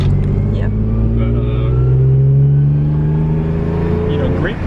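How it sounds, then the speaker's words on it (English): Lexus IS300 engine idling after a swap from an automatic to a manual-transmission ECU, a steady low, even hum running close and loud beneath a person talking. "So we're idling a little bit lower, but not as low as I want it to be."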